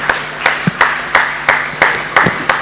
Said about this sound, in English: bigger round of applause.